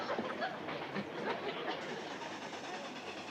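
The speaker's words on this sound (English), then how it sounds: "Whoever's highballing that locomotive up there is either drunk or crazy." A locomotive-hauled train runs fast along a branch line, heard as a faint, distant rumble with soft rhythmic rail clatter.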